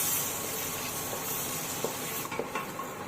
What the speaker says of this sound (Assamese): আৰু বাটাৰখিনি যেতিয়া মেল্ট হৈ যাব প্ৰথমতে মই দুটা গৰম মছলাখিনি ইয়াতে দি দিম আৰু অকমান লৰাই দিম